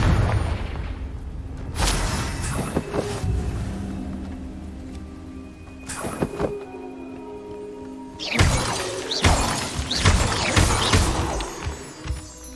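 Confringo blasting spells from the video game Hogwarts Legacy, bursting in a few loud, sharp explosions with shattering crashes, separated by quieter stretches of game ambience.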